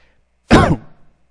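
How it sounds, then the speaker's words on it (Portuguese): A man with a slight cold gives a single sharp, close cough that trails off into a rough throat-clearing rasp, alone against a quiet background. "Me perdoem as tossidas, é que eu estou um pouco resfriado."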